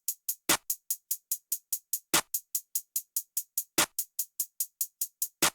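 A crisp clap drum sample from an FL Studio trap beat repeats in a fast, even pattern of sharp, bright hits, with a few heavier accented claps landing at regular intervals, each isolated with silence between.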